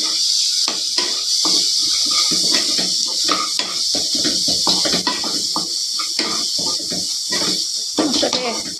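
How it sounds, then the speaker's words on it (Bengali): Spice paste with chilli powder and cumin frying in a pan, a steady broad hiss running continuously, with scattered clinks and scrapes of a utensil against the pan throughout. "মশলাটাকে একটু ভাজতে দেবো 5 মিনিটের মতো।"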